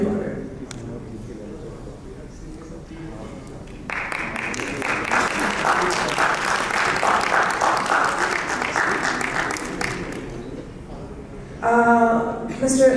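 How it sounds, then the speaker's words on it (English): Audience applause at a panel discussion at the HOBNOB 2023 event, a moderate, steady patter of clapping lasting several seconds between stretches of a presenter's speech. "Can we have a round of applause?"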